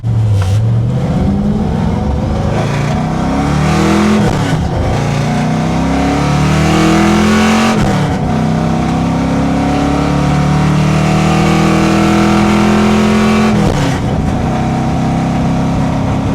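A car engine running lean with a plug needing to clear pulls loudly through repeated rising revs and gear changes on a test drive, heard steadily from inside or close to the car.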